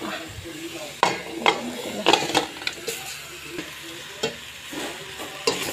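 Salmon head sizzling in a pot for sinigang sa miso, a soft steady sizzle broken by scattered clanks and scrapes of stirring, close and fairly quiet.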